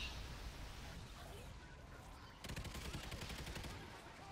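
Rapid bursts of LSOP fire with explosive rounds in Call of Duty: Ghosts Extinction, a fast rhythmic run of sharp shots kicking in midway over a low ambient rumble, close and loud.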